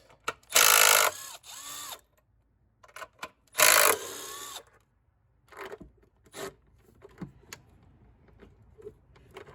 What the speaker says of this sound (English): I'll probably have to use a ratchet on those.